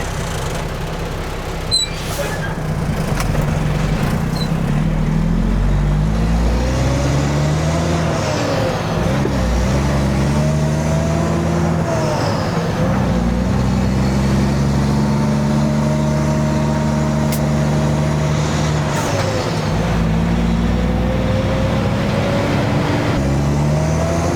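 A Caterpillar mini excavator drives forward off trailer ramps, its engine a steady, close drone whose pitch rises and falls slightly as it moves, with a sharp click near the start.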